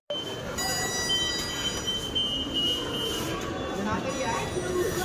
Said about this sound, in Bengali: আর তারপর এখানে ভিডিও করতে করতে আমাদের মেট্রো চলে আসে।